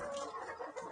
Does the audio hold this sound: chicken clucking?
yes